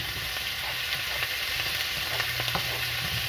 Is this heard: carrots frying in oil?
yes